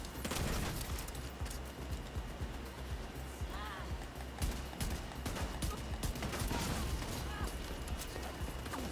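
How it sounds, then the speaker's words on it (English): Enemy turret in The Division 2 firing in rapid, continuous bursts of gunfire, loud and dense throughout, mixed with other game combat noise. "Nope, the turret's still going."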